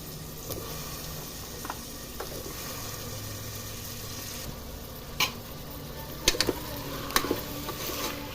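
Potato pieces sizzle and fry in a pan of curry with tomato and turmeric, with a steady hiss broken by several sharp scrapes and clinks of stirring, close and moderately loud.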